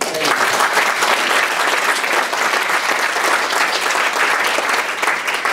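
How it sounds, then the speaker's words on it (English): Dense, steady audience applause fills the room at full volume, many hands clapping together without a break, at a talk on overcoming emetophobia with the Thrive Programme. "if you give them a big round of applause"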